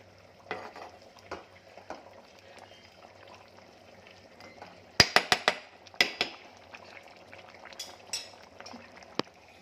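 Fish and vegetable curry stirred in a pot, with scattered scrapes and clinks of a spoon against the metal over a low bubbling simmer, including a brief burst of sharper knocks near the middle, close and without speech.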